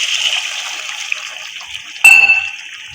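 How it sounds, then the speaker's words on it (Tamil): Two tumblers of water go into a pot of country chicken curry, a light trickling pour followed by a sharp splash and clink as it lands. "இப்போ இது கூட 2 டம்ளர் தண்ணி சேர்த்துக்கிறோம்."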